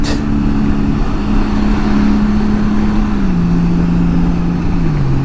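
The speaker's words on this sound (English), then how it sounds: "explore the torque and the power of this engine" Vehicle engine running on a morning ride in low light: a loud, steady drone with a hum that drops slowly in pitch as it eases off, under constant wind-like rumble, without talk.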